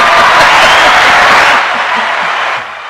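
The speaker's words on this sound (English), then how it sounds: "Crowd's going crazy." A sold-out stadium crowd cheers and roars, a dense wash of voices that stays loud and then fades slightly toward the end.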